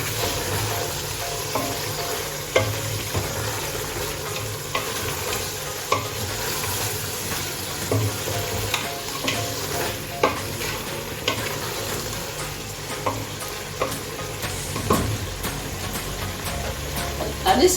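Efo riro, a Nigerian vegetable soup with cooked meat, stockfish and smoked fish, gets stirred in a pot, giving a steady gentle sizzle with repeated scraping and knocks of the spoon against the pot.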